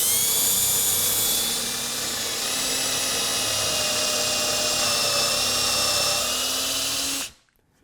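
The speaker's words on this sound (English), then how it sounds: "let me drill these holes" A power drill boring dowel pin holes in wood for a marshmallow catapult arm runs as a steady, high-pitched whine for about seven seconds, then cuts off abruptly into silence.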